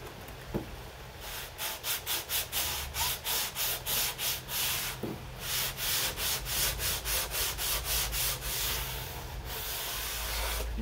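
Rough Taiwan cypress wood on an old cabinet being sanded smooth during refinishing, heard as a long run of steady, rhythmic back-and-forth rasping strokes, close and fairly loud, with a short pause midway and no talking.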